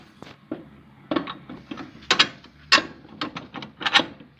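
Bolt being fitted into a pipe attachment on a Kirloskar Mega T15 power tiller, with a run of close metallic clunks, knocks and scrapes in uneven rhythm, several louder hits in the middle, and no talking.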